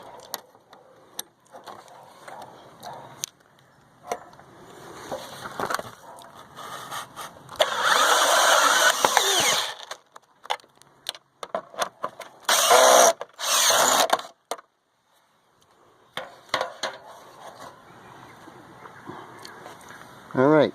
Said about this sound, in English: We're going to get those screwed in and get this thing tightened back up